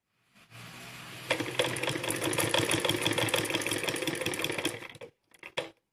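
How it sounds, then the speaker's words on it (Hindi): A sewing machine stitching fabric for a blouse back design runs in one continuous, fairly close whirring burst for several seconds, stops, then gives a brief final spurt. "देखिए आधे में सिलाई लगानी है हमें इसके ऊपर"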